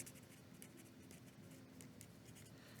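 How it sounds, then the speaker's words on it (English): Pen or marker writing notes during a math lesson on probability and compound events, a faint steady scratching that continues throughout the short stretch, with no talking. "I'm just going to write compound events."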